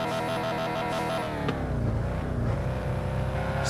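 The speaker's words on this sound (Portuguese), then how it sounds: "V10 cortando o giro, hein? V10 cortando o giro." A video game V10 engine revs near its limit, bouncing off the rev limiter with a rapid stuttering drone; no one speaks.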